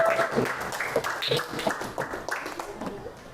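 A class of children claps together in a classroom, a dense burst of many small hands patting at close range that stays fairly steady for a few seconds.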